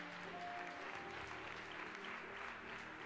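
Church congregation applauding together to acclaim Jesus during a service, a dense steady wash of clapping with a faint crowd murmur beneath, no talk over it.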